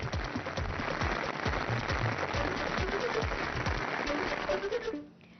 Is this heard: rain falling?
yes